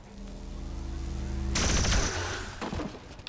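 Pistol shot in the video game XCOM 2, a sharp burst after a steady low hum, followed by a loud crackling, booming wash that slowly fades.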